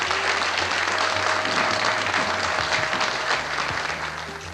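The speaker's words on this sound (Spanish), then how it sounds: "Así es David Viñas, a quien recibimos con este afectuoso aplauso en este escenario" Warm audience applause fills a hall as David Viñas is welcomed on stage, a dense, steady clapping from a large crowd that stays loud and close before easing slightly at the end.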